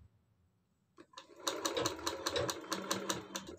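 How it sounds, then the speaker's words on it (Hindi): An electric sewing machine stitches around the neckline of a lined blouse, starting after a brief pause and then running steadily with a fast, even rattle up close. "गले पे इस तरह से हमें सब तरफ सिलाई लगाते जाना है इस तरह।"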